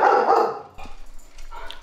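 Dogs barking indoors, a short burst of fairly loud, rough barks followed by quieter yips and whimpers in a brief moment.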